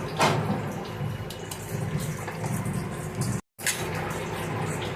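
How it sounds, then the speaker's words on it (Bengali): Water pouring steadily into a pan of spiced potatoes, a continuous splashing wash broken by a brief cut, fairly close and with no talk. "জল দিয়ে দিই।"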